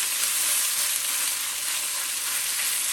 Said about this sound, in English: we're going to take half of the beef, get it in the pan, and we're going to stir fry them